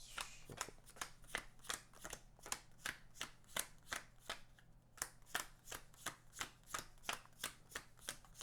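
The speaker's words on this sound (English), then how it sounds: "Let's shuffle." A deck of cards being shuffled repeatedly at close range, each riffle a short crisp burst of flicking in a steady rhythm of about two per second, quiet and continuous, with no speech.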